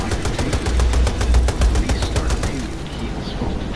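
Rapid automatic gunfire in the video game Battlefield 2, a loud, evenly spaced burst of shots for about two and a half seconds, then fading into quieter background noise.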